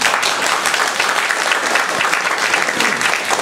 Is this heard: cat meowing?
no